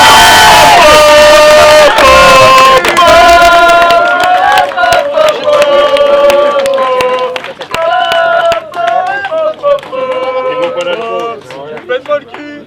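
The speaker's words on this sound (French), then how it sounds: "Première position et un tonnerre d'applaudissements pour Gildar Cottenay." A crowd at a clay pigeon shooting competition breaks into loud cheering and shouting. Voices call out in excited, tonal bursts while scattered claps sound through it, then it thins toward the end.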